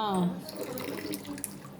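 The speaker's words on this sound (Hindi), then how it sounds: "अभी हम पौधों में पानी डाल रहे हैं ना" Water splashes steadily onto potted money plants while watering, a continuous gushing stream close by, with a voice talking briefly at the start.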